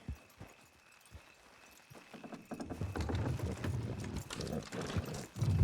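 Rhythmic hooves clip-clopping steadily in the video game Red Dead Redemption 2, growing louder and busier as several horses get moving, with low rumbling underneath.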